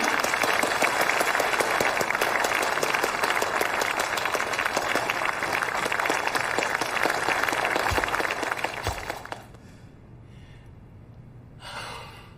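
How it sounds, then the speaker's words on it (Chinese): Loud, dense applause from a crowd at a Shanghai General Chamber of Commerce gathering fills most of the clip, then cuts off abruptly, leaving quiet room tone and a brief rustle. "让我们掌声欢迎"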